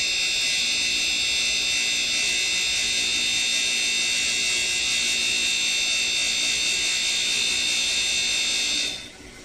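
High, steady whine of a tool grinder sharpening the flutes of an end mill, a loud continuous buzzing tone holding for about nine seconds before stopping abruptly.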